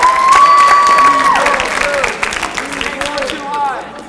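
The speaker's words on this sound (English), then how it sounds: "let's give him a quick round of applause for that." Audience of about 200 people at a student government Mr. MHS 2018 contest clapping and cheering for a contestant, with a steady roar of applause fading over a few seconds beneath an announcer's amplified voice and whistles.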